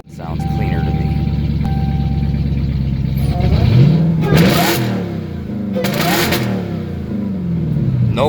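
A supercharged Dodge Hellcat V8 idles with a deep, close rumble, then revs hard twice, each sharp climb and fall in pitch clean and loud before it settles back to a throaty idle; a voice talks briefly over it.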